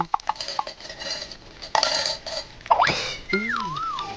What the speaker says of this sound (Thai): แล้วก็ผัด ใส่เครื่องปรุง